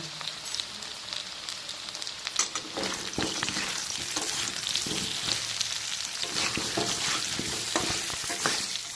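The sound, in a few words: potatoes frying in oil, stirred with salt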